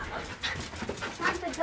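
A newborn puppy without eyes on a farm whimpers in a few faint, short, high whines, with soft snuffling and background noise between them.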